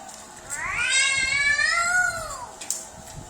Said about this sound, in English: the cat's out